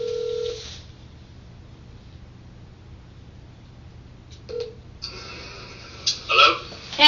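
A phone is dialed on speakerphone, giving a few short tonal beeps late in the span over a faint, hissy background, with a brief tone near the start and no talking.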